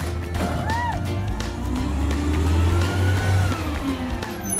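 A real garbage truck engine rumbles steadily as the truck drives down a street, its low mid-pitched drone loud and continuous, with faint traffic and street noise around it.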